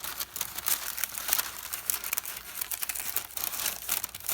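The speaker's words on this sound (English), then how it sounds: "I should be able to kind of fold this over" Parchment paper folded over by hand, a steady, close crinkling and rustling that carries on continuously with no voices.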